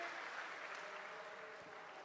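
Applause from an audience at a saints' assembly at the Maha Kumbh in Prayagraj, a steady, fairly faint wash of clapping that holds evenly throughout without any speech over it.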